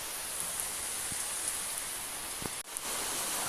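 Steady rain falls over an outdoor puja gathering for a new vehicle, a constant soft hiss of drops with a few brief crackles and a short dip in the middle.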